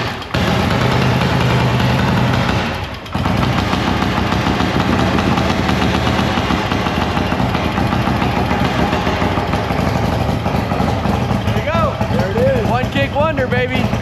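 Kick-started 1950s Harley-Davidson Panhead engine, choked and with retarded ignition, catching after a short dropout and settling into a loud, uneven idle close by, with people talking over it toward the end.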